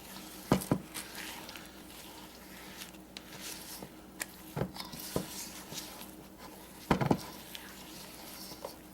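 Stiff pumpkin bread batter is stirred around a bowl, producing soft squishing scrapes and a few louder knocks of the spoon against the side, close and fairly quiet.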